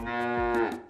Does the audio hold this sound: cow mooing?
yes